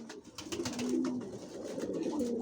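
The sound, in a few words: pigeons cooing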